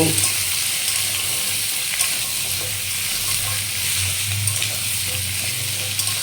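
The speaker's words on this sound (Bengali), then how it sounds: "এই আমি আলু পেঁয়াজটা একসাথে দিয়ে দিলাম। একটু ভালো করে কষিয়ে নেব।" Potatoes and onions frying and being stirred in a pan give a steady, loud close sizzle with faint scraping, continuous throughout without talk.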